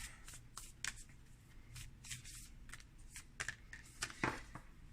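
Tarot cards are shuffled and drawn by hand in a quiet room, making soft riffling and papery flicks in quick irregular bursts, close and faint, with no voices.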